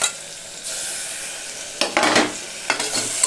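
Chopped tomatoes sautéing in a pan with ginger garlic paste: a steady hiss of frying with a few louder bursts of sizzle and spoon scraping toward the end, close and without voices.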